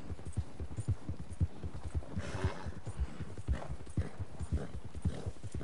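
Horse hooves clip-clop steadily and close while a horse is ridden straight ahead in a PS4 cowboy game, with a rapid even rhythm over a low hum and a brief breathy rush partway through.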